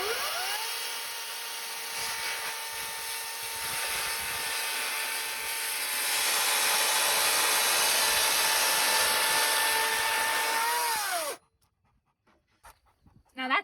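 A grinder at a skid cabin build runs with a steady high whine for about eleven seconds, growing louder midway, then cuts off abruptly into near silence with a few faint knocks.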